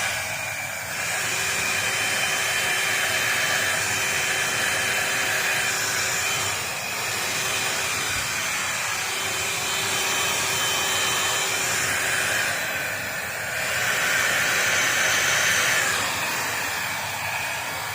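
A hair dryer blows a steady, loud whooshing stream of air across wet acrylic pour paint, with the rush easing and swelling a few times as it is moved around.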